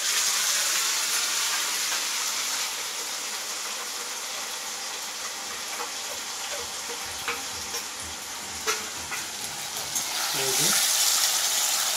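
Onions sizzle steadily in a hot pan as five-spice mix goes in, a constant bright hiss with a few soft stirring scrapes and clinks near the end and faint talk in the background.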